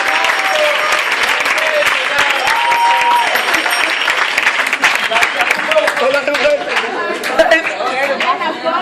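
A live comedy audience bursts into applause, dense clapping rising and tapering over several seconds, mixed with chatter and a voice speaking over it.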